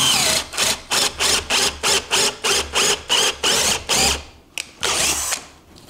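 A KIMO cordless drill driver bores a hole in a steady series of about ten loud, close whirring bursts, each cut off by a short pause, ending with a few quieter spins.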